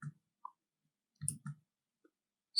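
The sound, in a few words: keyboard and mouse clicks pressing Ctrl 2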